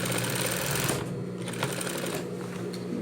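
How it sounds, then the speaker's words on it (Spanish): Sewing machine running a second seam along capri trousers, a fast whirring stitch for about a second, then quieter intermittent clicks and handling of fabric. "remato acá y hago una segunda costura, puede ser al ancho del pie"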